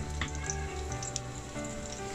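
Crushed red pepper flakes hit hot oil in a pan for aglio olio, giving a steady, fairly quiet sizzle with faint crackles and pops throughout.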